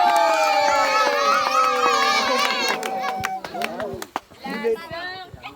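A crowd of children cheering and shouting together, with scattered claps near the end as the voices break up.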